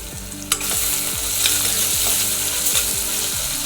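Chopped tomatoes and kasuri methi sizzling in a pan of hot oil, a steady close crackling hiss with a few light clinks from stirring, no one speaking.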